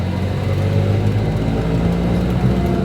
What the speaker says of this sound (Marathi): आता रिक्षा बसलेलं आहे.